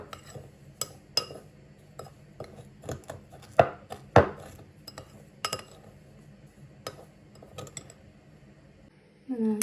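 Eggshells and black pepper are crushed finely in a bowl, giving sharp irregular knocks and grinding scrapes. A few louder clacks stand out, and a voice starts at the very end.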